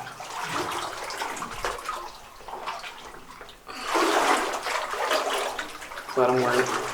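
Legs wading through murky, ankle-to-knee-deep water along old rails inside the flooded Rock Fold Mine, giving repeated close sloshes and splashes that rise into a louder churning surge midway, echoing in the tunnel.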